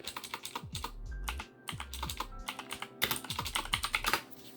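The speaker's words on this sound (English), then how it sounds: "we're just gonna type in wmic memory chip get memory type" Fingers type a command on a computer keyboard, a brisk close run of plastic key clicks in quick bursts with a brief pause near the middle and no talking.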